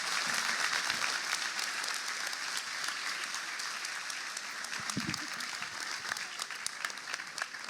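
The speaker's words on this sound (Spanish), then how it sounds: "¿Qué te parece si le das un aplauso más grande al Señor?" A congregation at a church service applauds in a steady, dense wash of many hands clapping at once. The applause is fairly distant and holds its level throughout, with a brief voice surfacing near the middle.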